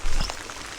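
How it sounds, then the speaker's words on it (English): Heavy rain pours down around a kayak while fishing on a calm Cape Cod pond, a steady dense wash of drops close to the microphone with a brief louder patter at the start. "Rain is absolutely pouring."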